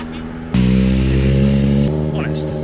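Racing motorcycle engines at the Mugello circuit scream and bounce off their rev limiters, a loud sustained buzzing roar that kicks in abruptly and holds steady before easing, heard from nearby among spectators.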